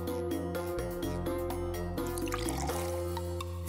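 Water trickles and drips as it is poured onto broccoli. The sound is soft and comes in splashing bursts under a continuous musical background, with no speech.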